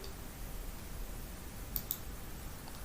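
A couple of quick, faint computer mouse clicks tick close together against a quiet background hiss.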